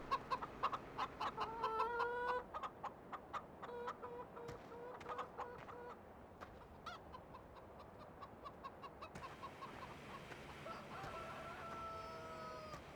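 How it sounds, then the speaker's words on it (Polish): A rooster and hens in the Farming Simulator video game: steady clucking and chattering runs throughout, with drawn-out crowing calls rising near the start and again near the end, close by and with no voices. "Kogut też jest."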